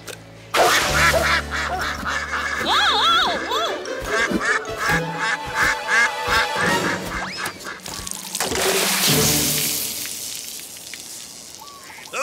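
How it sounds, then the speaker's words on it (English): Cartoon ducks quack repeatedly in a duck pond, a busy run of loud, close calls over bright music and effects, with a burst of watery splashing noise toward the end. "We finally have ducks in the duck pond."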